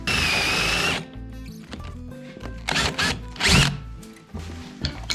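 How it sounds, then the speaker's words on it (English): A power drill with a 3/16 bit whirs in short bursts as it bores out rivets during a front bumper install on a 2022 Polaris Matryx, with grinding metallic squeals and pauses between each pass, close up. "we're gonna use the 3/16 drill bit to drill these rivets out"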